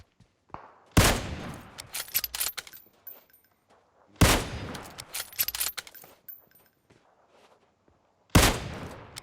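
Three sharp bursts of rapid automatic gunfire in PUBG Mobile, each loud and close, separated by quieter stretches with scattered clicks and small impacts.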